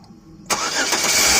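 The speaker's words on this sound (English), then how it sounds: "The engine started," A 1999 Buick Century engine cranks and catches after a quiet moment, then settles into a loud, close, steady running sound.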